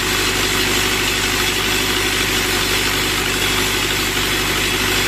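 A tractor engine running steadily at 1650 RPM to drive a mobile sawmill, a loud continuous diesel drone with a constant throb and vibration and no change in pitch.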